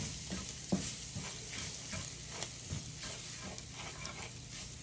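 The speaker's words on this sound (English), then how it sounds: "Start stirring it around." Sausage gravy seasoned with black pepper being stirred in a pan, a quiet bubbling sizzle under a regular series of soft scraping strokes, no voices.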